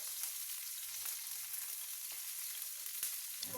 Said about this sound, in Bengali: এটা আমি একটু ভেজে নেব।